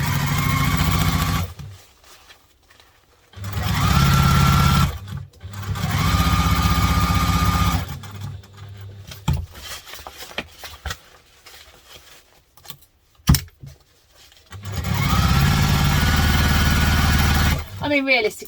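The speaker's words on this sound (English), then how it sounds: "we're going to sew up the sides, making sure we've moved our lining out of the way." A sewing machine stitches the sides of a lined duffle bag in several loud bursts of rapid whirring, separated by quiet pauses and stretches of talking.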